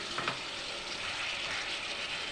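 Chicken sautéing with yogurt in a pan: a steady, close frying sizzle that hisses evenly throughout with no one speaking.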